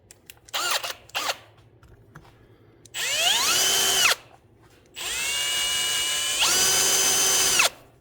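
Two long bursts of a power drill whining at high speed as it bites into aluminum, separated by short pauses, with a couple of brief clicks at the start.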